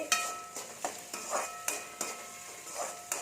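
Onions sauté in a pan while kovakkai poriyal is being made, a gentle sizzle broken by regular scraping stirs of a spatula, about six strokes in quick rhythm.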